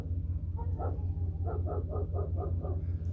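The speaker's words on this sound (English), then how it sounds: "only one dog is actually barking." A single dog barking from inside a vehicle, a run of about eight muffled, evenly spaced barks over a steady low engine-like hum.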